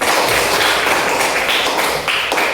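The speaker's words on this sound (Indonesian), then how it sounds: "Beri aplaus dulu untuk kelompok 3." A group of students in a classroom applaud together, a dense, loud, steady patter of many hands clapping for a couple of seconds with no voices over it.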